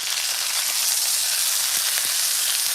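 Tomahawk steak searing in a scorching hot frying pan, a steady loud broadband sizzle and crackle that holds constant throughout, with no talking.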